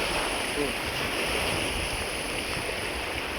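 Strong, gusty wind sweeps over water along a river bank, a steady broadband roar with wind buffeting the microphone, continuous and loud throughout with no clear voices.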